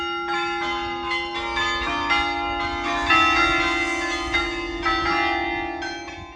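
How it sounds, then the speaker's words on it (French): Several church bells of a carillon peal together in a steady, overlapping cascade of ringing tones, loud and sustained with no voices. "Le carillon est une série de cloches disposées de manière à fournir une gamme plus ou moins étendue"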